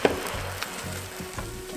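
Food sizzling in a pan over low heat while a low-carb gimbap without rice cooks, a steady soft crackle with a few small pops, close and alone.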